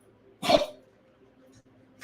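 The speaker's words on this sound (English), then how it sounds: "Sorry, my dog's coughing." A dog gives one short, harsh cough close by, followed by quiet and a faint small sound afterward.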